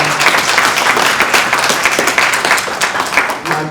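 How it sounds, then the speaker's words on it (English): Crowd at a home mortgage initiative launch clapping for the organizing team, sustained dense applause from many people that tapers off toward the end. "Can y'all clap it up for them?"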